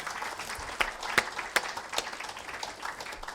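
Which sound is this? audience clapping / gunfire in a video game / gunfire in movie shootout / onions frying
audience clapping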